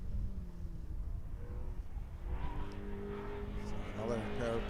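Mini and Fiesta race cars run the final lap at Kirkistown circuit during a September 2022 race meeting, their engines droning at a distance and rising toward the end, beneath steady commentary.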